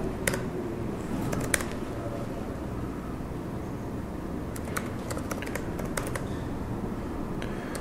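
Computer keyboard clattering as a shell command is typed, scattered quick key taps over a steady low background hum, close but fairly quiet, with no talk.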